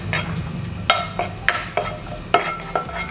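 Garlic and onion are stirred in a lightly oiled wok that is not yet fully hot, producing a soft frying hiss punctuated by several sharp spatula scrapes and clinks against the metal at an irregular rhythm, with no voices.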